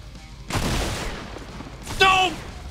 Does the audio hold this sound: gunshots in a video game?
yes